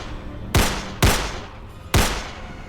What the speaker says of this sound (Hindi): डिटेक्टिव विनोद ने पिस्तौल से 4 फायर किए